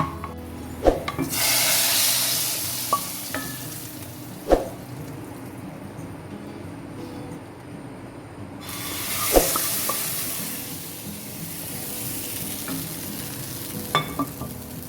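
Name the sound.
red garlic tempering sizzling as it is added to spinach daal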